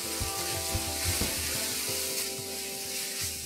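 Chili powder is stirred into hot, sizzling masala in a pan, a steady close frying hiss with soft rhythmic scraping of the spoon through the mixture.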